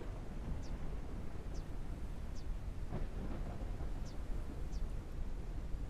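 Thunder rumbles low and continuous under steady wind and rain noise in the airship survival game Forever Skies, with faint crackles scattered through the storm.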